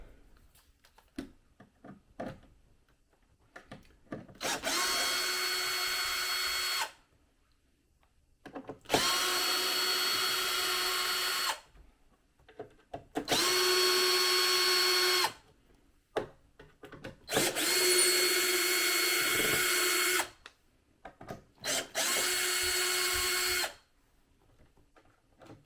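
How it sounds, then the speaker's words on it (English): A cordless drill backs screws out of the back panel of a 1972 Wem Dominator MK3 amplifier, whirring in five loud, even bursts of about two to three seconds each, separated by short quiet pauses. "So I'm going to nip and get the cordless drill, and we'll remove it."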